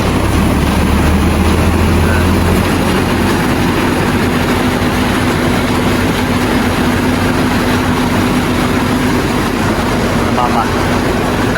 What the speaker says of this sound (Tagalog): Ayan po at pinapaandar na yung makina. Parang makina lang po ito ng jeep.